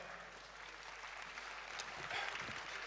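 Ceremony audience at a World Environment Day event applauding to welcome speaker Malik Amin Aslam, a steady, moderately distant patter of many hands that swells slightly toward the end.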